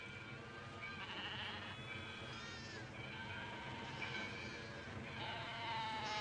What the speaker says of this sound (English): What is it? A Judas goat.